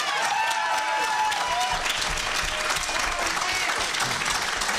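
Energetic audience applause at a San Francisco mayoral candidates forum after a candidate finishes an answer; loud, close clapping with a few whistles or cheers, lasting the whole stretch at a steady level.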